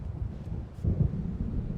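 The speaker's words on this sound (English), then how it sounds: "It seems there's a storm coming." Low rolling thunder from an approaching storm in the video game Alan Wake, a deep, rumbling swell that builds briefly near the middle and stays close and heavy, with wind-like noise around it.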